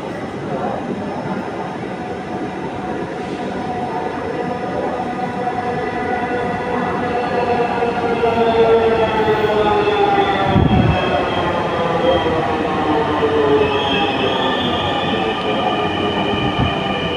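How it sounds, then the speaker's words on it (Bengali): Train arriving at a station, a continuous rumbling roll with rising metallic wheel squeals and tonal whines as it pulls in, close and steady throughout, with a sharp clunk midway. "তোমার ট্রেনটা আসতেছে, এখনই তুমি উঠবা।"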